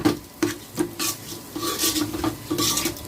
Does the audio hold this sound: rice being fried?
yes